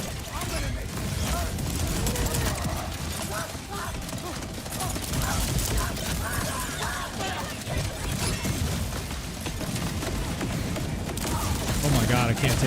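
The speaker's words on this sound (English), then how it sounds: "Look at all the ricochets blowing up all over the place." Rapid gunfire with exploding ricochets in the video game Borderlands 4, dense continuous bursts and blasts filling the whole stretch, with a voice talking over the chaos.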